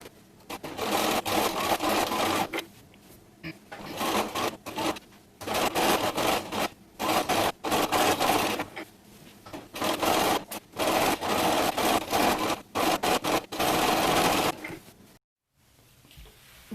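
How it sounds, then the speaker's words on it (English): Sewing machine stitching through the layers of a flamingo costume cape, close and loud: repeated runs of rapid mechanical stitching, each lasting a second or two, separated by brief pauses, ending in a short silence. "I can just go and sew each layer as I remove the pins"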